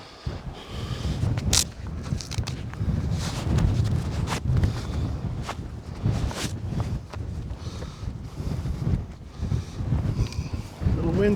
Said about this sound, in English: A little windy up here today.